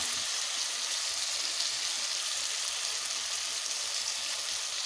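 Ginger, cumin and dried chilli spice paste hitting fried tomatoes in a pan for a rohu fish curry with potato and pointed gourd, giving a steady, dense sizzle that holds evenly at close range with no talk.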